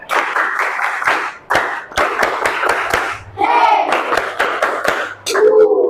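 Classroom pupils clap their hands in counted rhythmic groups as a teacher leads them, producing sharp, closely spaced claps with voices talking and calling between and over them.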